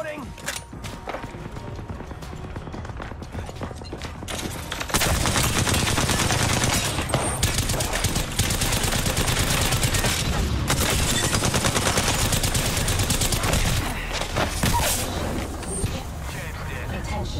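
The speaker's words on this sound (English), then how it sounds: "They're shooting at me." Rapid bursts of automatic gunfire from enemies in Apex Legends, loud and continuous, intensifying sharply partway through into a dense barrage with layered shots and impacts, while a player talks over the action.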